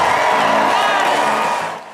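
Republicans at the party convention cheer and whoop in a loud, dense roar of crowd noise that holds steady and then fades toward the end.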